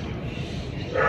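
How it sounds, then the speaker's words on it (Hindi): Outdoors in the early morning, a dog barks in the distance behind a steady background hum, one faint bark rising toward the end. "आज सुबह सुबह आपको पीछे आवाज़ आ रही है कुत्ता भौंकने की।"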